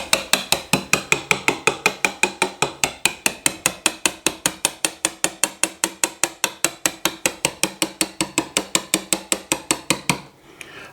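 A broad chisel struck with a hammer chops deep lettering into stone: a fast, even stream of about four sharp, ringing taps per second, close and loud, continuing for ten seconds before stopping, with no voices.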